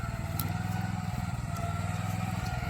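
A Swaraj tractor engine runs close by with a steady, throbbing diesel chug and a loud low rumble, its pulsing rhythm holding even throughout.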